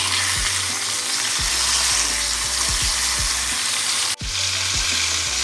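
Bombil fish fries in a pan with a steady, loud sizzle that runs throughout, broken by several low thumps and scrapes as the pieces are turned, and a brief dropout near the end.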